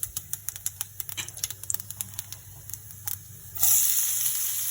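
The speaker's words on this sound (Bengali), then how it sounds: "আজকে লাউ দিয়ে পাঁচফোড়ন দিলাম।" Panch phoron spices crackle in hot oil with bottle gourd for lentil curry, a run of sharp pops and ticks over faint background, ending in a louder steady sizzle.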